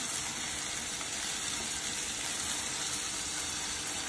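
Tomatoes and green chilies fry together in a hot pan, giving a dense, unbroken sizzling hiss at constant loudness, close and without speech.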